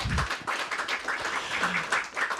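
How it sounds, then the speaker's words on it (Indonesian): A studio audience on a talk show gives applause for a guest professor, a moderate and somewhat uneven patter of clapping with a few louder claps standing out, no speech over it. "Boleh kasih tepuk tangan buat Prof Lely?"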